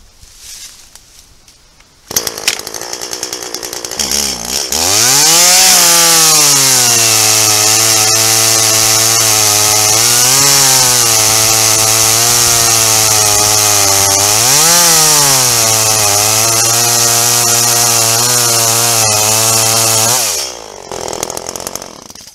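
A loud chainsaw roars close by, its engine rising and dipping in pitch as it bites through a cull tree being felled, a long, steady cut.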